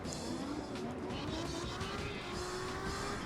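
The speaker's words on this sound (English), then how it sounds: "I'm freaking drifting on almost rims." Tires squeal steadily through a long slide in CarX Drift Racing Online, the car drifting on tires worn almost to the rims, with a constant engine roar rising slightly in pitch throughout.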